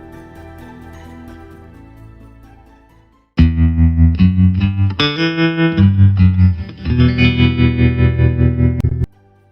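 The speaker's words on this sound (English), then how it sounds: "Yes, it's a guitar." A quiet, murky intro gives way to loud, heavily distorted electric guitar chords, strummed in a driving rhythm with chorus-like shimmer, then cut off abruptly.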